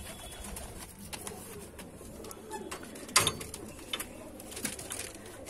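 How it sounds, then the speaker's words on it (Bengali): Kalanka Madrasi pigeons coo in a loft, a low steady murmuring bed with scattered clicks, a brief sharp bang near the middle and a few light flutters. "এটা কালাঙ্কারই পায়রা"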